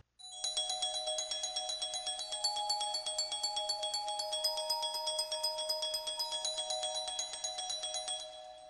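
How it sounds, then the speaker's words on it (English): A glockenspiel playing a steady run of 16th notes as a groove sample, bright metallic bar strikes repeating evenly and quickly for about eight seconds, clear and close with no voices. "let me also show you what it sounds like when we play the groove sampling method here on the Glockenspiel using 16"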